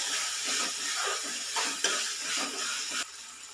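Tomato masala with turmeric powder is stirred in a frying pan, a steady sizzle and hiss with a few soft scrapes of the spoon against the pan, close and continuous.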